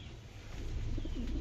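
Fighting pigeons of the flock coo softly and continuously for a brief moment, low throaty calls close by with no talking.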